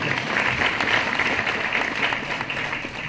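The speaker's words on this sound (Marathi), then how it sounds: "म्हणून भुजबळ सरांसाठी जोरदार टाळ्या होत्या." Loud, sustained applause for Bhujbal sir from an audience at a voice and singing presentation, a steady wash of clapping with no voices above it.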